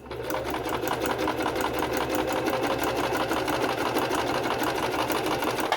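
A Singer sewing machine runs steadily during bobbin winding: a continuous close whirring motor hum with a fast, even mechanical clatter, heard alone without any voices.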